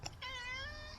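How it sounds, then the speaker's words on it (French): A cat gives a single short, close meow that rises and holds with a clear tonal cry, preceded by a faint brief noise. "Oh le chat."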